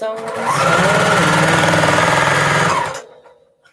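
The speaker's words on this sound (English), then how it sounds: "Oh my gosh. Sewing." A sewing machine runs in one continuous, loud, rapid mechanical chatter for about two and a half seconds close by, then stops abruptly and leaves faint room noise.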